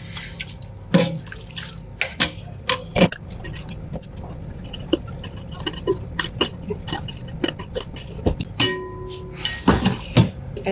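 Turkey stock is stirred in water, giving irregular light liquid splashes, drips and clinks of a spoon against the pot, close and soft, with no talking.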